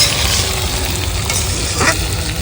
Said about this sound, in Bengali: এই তো কষানো চলছে, এখনো খাসি মাংসটা টাইম লাগবে